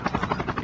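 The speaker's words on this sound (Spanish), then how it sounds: "Mirá, ahí viene otro helicóptero, boludo." Helicopter rotor in Call of Duty: Mobile thumping steadily nearby with a rhythmic chop, loud and alone with no talk.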